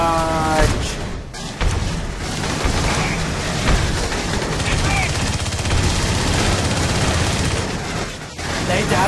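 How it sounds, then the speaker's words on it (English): Sustained automatic gunfire from Colonial Marines squad weapons in the Aliens Colonial Marines video game, a dense, continuous loud barrage with booms mixed in, a brief dip near the start and end. "Lay down suppressive fire, you guys!"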